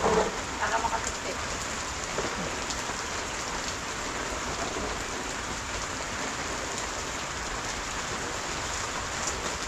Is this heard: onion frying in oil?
no